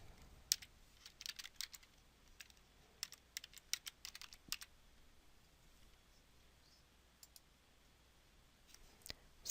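Computer keyboard typing while entering a last name into a travel-approval web form, with short bursts of quiet clicky keystrokes separated by pauses, close and faint over a low hiss.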